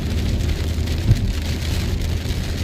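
Heavy rain pours down during a road trip from Chennai to Munnar in a Baleno, a thick, constant roar of water heard close by with no talking.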